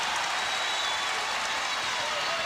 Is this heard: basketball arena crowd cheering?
yes